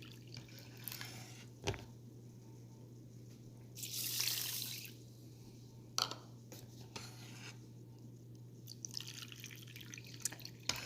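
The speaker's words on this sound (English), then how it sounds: "add in 2 to 3 cups of water." Water is poured into a bowl of parboiled rice: one short splashing pour in the middle, with scattered drips and small clinks before and after over a steady low hum.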